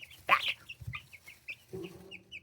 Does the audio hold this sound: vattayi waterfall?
no